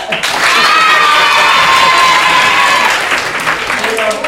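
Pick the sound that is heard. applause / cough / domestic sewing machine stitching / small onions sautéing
applause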